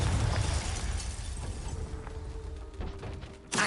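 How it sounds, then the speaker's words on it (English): A fiery Confringo explosion spell from the Hogwarts Legacy game, a loud roaring blast that fades into a rumbling tail, with a sharp second burst near the end and no voices. "Confringo!"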